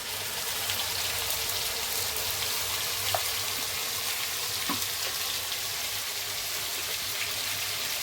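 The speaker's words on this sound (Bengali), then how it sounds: "একটু ভালো করে ভেজে নিতে হবে এর মধ্যে আদা একটু রসুন পেঁয়াজ আর কাঁচা লঙ্কা দেওয়া আছে" Ginger, garlic, onion and green chili fry in oil in a pan with a steady, close, dense sizzle that holds evenly throughout, with no talking.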